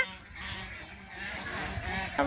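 Domestic geese fighting give strained, overlapping honks close by, rising into a sharper burst of calls at the end.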